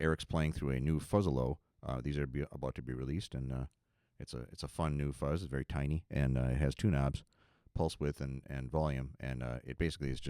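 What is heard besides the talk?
No everyday noise stands out behind the speech.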